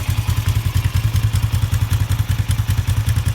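A restored Suzuki GS450L classic motorcycle engine idles nearby with a quiet exhaust, a steady rapid low-pitched pulsing throb with light mechanical clatter running evenly throughout.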